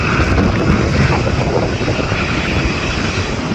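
Ryanair airliner rolling on the runway just after landing at Manchester Airport, a loud steady roar of engine and rushing air filling the whole clip without pause.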